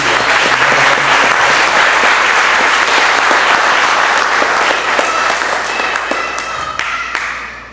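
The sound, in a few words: congregation applauding in church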